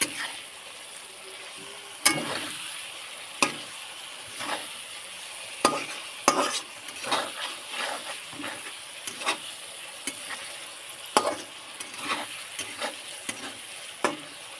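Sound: eggs being sautéed and stirred in a pan

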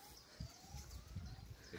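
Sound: siren going off

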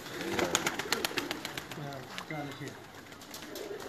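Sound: pigeon released into the air

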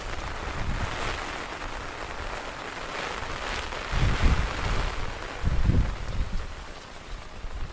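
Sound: heavy rain and wind

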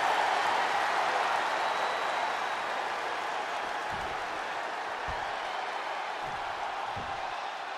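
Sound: crowd cheering and applauding in video game WWE 2K24

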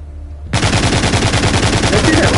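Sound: Gatling gun firing in the video game The Walking Zombie 2

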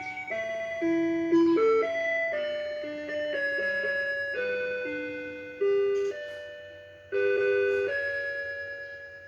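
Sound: musical wall clock hourly chime melody

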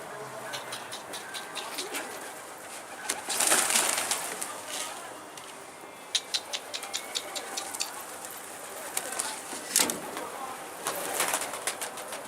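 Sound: pigeons cooing

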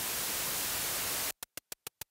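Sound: white noise from modular synthesizer module with envelope

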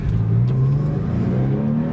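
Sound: 1999 Porsche 911 Carrera 4 flat-six engine revving, induction noise

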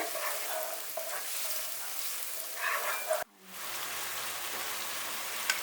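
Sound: carrots and onions sizzling while frying

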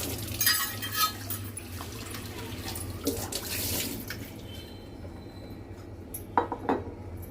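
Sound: washing a new cast iron appe pan

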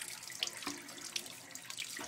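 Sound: tap water rinsing a window AC unit filter

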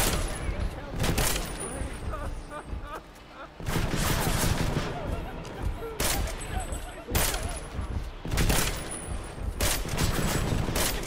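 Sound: battle rifle gunfire in Deus Ex: Mankind Divided video game

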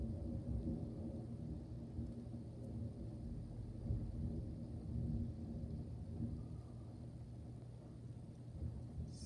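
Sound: thunder rumbling from a thunderstorm

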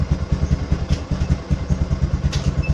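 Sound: motorcycle engine running with clutch light

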